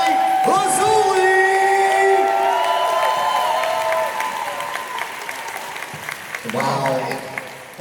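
Audience applause with whoops and cheers fills the room after a dance performance at the Anthrocon 2023 dance competition, loud and sustained with music tones over it early on, then thinning out before a final swell.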